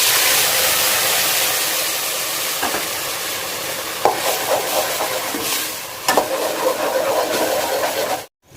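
Ground spices frying in about a cup of hot oil, a loud continuous sizzle with occasional stirring scrapes and clatters, ending abruptly.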